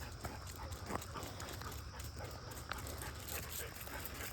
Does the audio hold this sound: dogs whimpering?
yes